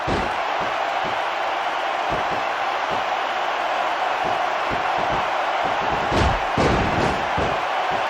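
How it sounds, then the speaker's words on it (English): A large arena crowd roars steadily throughout, a dense wash of cheering and shouting with a few louder swells near the end, in the PS2 wrestling video game WWE SmackDown vs. Raw 2006. "Sounds like this crowd's got something on their minds, King."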